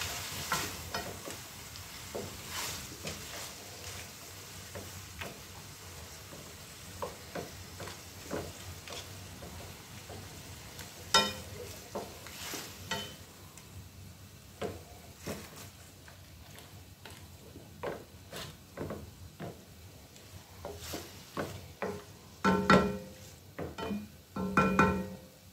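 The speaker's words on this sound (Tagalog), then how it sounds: "ibuhos mo na ang alupiang dagat o cicale. Cicale tawag din dito sa Italia. So, igisa lang natin." Mantis shrimp sautéing in a pan, briefly cooked before white wine is added for a pasta sauce: a steady soft sizzle broken by irregular clinks and scrapes of stirring, close and without talk.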